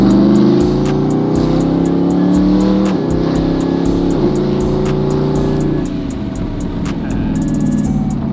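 A twin-turbo Dodge SRT 392 pulling hard at part throttle, a loud, close engine roar climbing steadily through the gears with brief dips at each shift.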